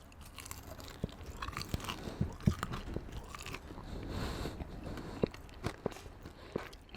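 Crispy air-fried Japanese karaage chicken being chewed close up, with irregular crunchy bites and wet chewing under a soft background, and no voices.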